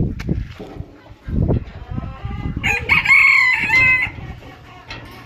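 Hens cluck in short repeated bursts close by in a poultry yard, then a rooster lets out one loud drawn-out crow that fades back into scattered clucking.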